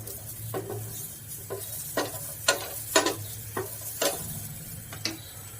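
Chickpeas roasting with chili flakes in a pan on a gas stove, stirred with sharp, irregular scraping strokes over a soft background sizzle, close and fairly clear.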